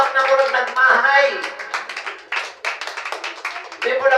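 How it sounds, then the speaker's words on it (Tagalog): A congregation claps during a Sunday church service, in bursts of sharp, uneven claps that mix with a speaking voice close by. "palakpakan po ang Panginoon"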